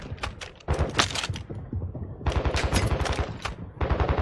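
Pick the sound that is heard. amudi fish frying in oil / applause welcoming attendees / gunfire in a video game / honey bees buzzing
gunfire in a video game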